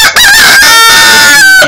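A rooster crows loudly and close by, one long strained call that fills the whole moment, with no talking.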